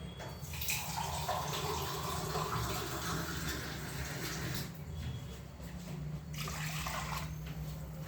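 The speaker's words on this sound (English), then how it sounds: "I'm adding 3 glasses of water" Water pours steadily into a pot for semolina halwa prasadam, making a continuous rushing, splashing noise. It changes slightly between pours and stays at a moderate, even level throughout.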